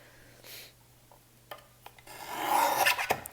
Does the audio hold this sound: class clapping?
no